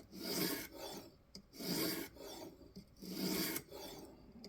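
A knife bevel being feathered on a sharpening stone: three slow, even scraping strokes, each a rough rasping rub with short pauses between, close and fairly quiet with no voices.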